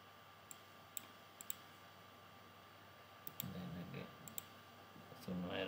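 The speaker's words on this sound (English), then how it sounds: "just click over here and just validate geometry" A computer mouse clicks sharply a handful of times, sparse and faint over quiet room hiss, with a low voice murmuring toward the end.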